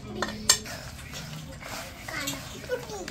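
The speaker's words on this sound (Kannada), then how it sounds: "ಚೆನ್ನಾಗಿ ಮಿಕ್ಸ್ ಮಾಡ್ಕೊಳ್ಳೋಣ ಖಾರ ಪುಡಿನ" Chicken is mixed with chili powder in a bowl for homemade fried chicken, with soft clinks and scrapes of utensil against the bowl beneath a voice speaking throughout.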